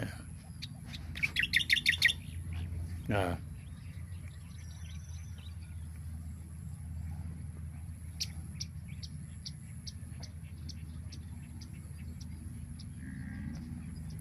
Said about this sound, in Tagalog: Ang madinig mo dito mga huni ng ibon.